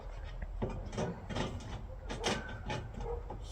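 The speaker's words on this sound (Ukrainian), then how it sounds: "Скрипить, фарбу царапаєш." Metal chimney pipe squeaking and scraping against painted metal while a fireplace flue is being fitted: repeated close, rough grinding bursts of uneven length over a low background rumble.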